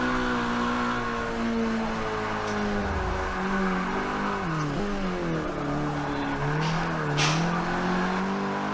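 A Mazdaspeed 3 pushes through a fast lap of the Sonoma short circuit. Its engine revs loud and continuous from inside the car, rising and falling through upshifts and downshifts, with a brief tire squeal. No one speaks.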